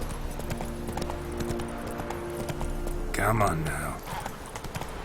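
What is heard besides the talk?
horse hooves clip-clopping in video game Witcher 3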